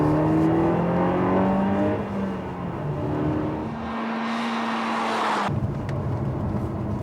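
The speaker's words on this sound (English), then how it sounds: "The RCZ easily gets up to speed, offering an engine noise on par with today's best sports cars." A Peugeot RCZ sports coupe engine revs and climbs in pitch as it accelerates, then the tone drops sharply as it shifts, heard from inside the cabin.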